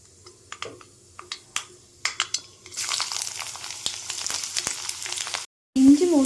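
Ginger frying in hot oil with popped mustard seeds, a steady loud sizzle that swells after a few sharp stirring clicks, briefly cut off, then returns with a spoon scraping the pan.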